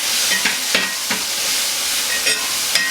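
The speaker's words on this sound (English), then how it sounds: "We'll stir fry that" Stir-fried beef with vegetables, onions, garlic and soy sauce hissing loudly in a hot pan, a dense continuous sizzle with a few quick stirring scrapes and clatters rising above it, close and alone without speech.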